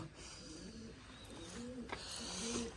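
Large pigeons coo softly in a low, rolling rhythm near a feeding spot, several calls overlapping steadily with no talking.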